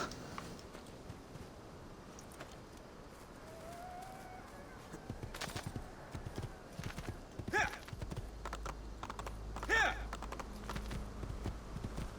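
Horse hooves clip-clopping in Assassin's Creed 2, a soft, irregular run of hoof clops under game ambience, with a brief neigh-like tone and a low engine-like rumble near the end, all fairly quiet.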